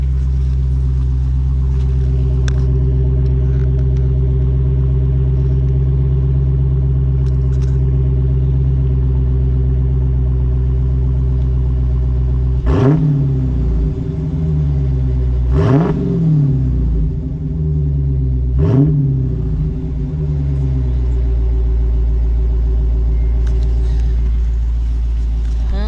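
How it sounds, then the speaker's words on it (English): A 2016 Dodge Challenger R/T Scatpack with a 6-speed manual idles with a deep, steady exhaust rumble, then gets three sharp revs a few seconds apart before settling back to idle. "Now, let's listen to exhaust."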